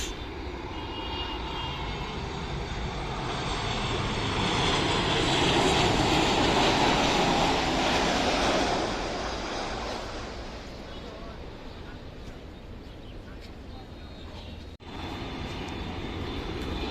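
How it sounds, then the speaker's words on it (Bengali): A Malaysia Airlines Boeing 737 MAX 8 on approach to land at Dhaka roars overhead, its broad jet rumble swelling to a loud peak and then fading as it passes. "এই বিমানটি মালয়েশিয়ার রাজধানী কুয়ালালামপুর থেকে তিন ঘন্টা একচল্লিশ মিনিট পথ উড়ে ঢাকায় অবতরণের জন্য এগিয়ে আসছে মালয়েশিয়ান এয়ারলাইন্সের Boeing seven three seven max"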